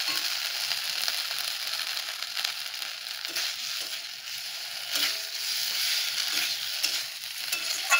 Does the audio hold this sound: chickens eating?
no